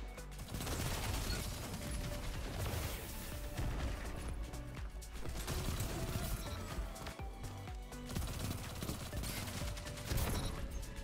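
Video game gunfire: bursts of rapid shots and mechanical clicks and clatter in a continuous, busy stream of game combat sound.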